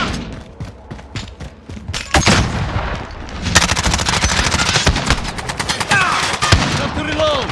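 Rapid machine-gun bursts and scattered gunshots in Call of Duty: Modern Warfare, sparse single shots at first, then a dense, loud, continuous stretch of fire with thuds mixed in.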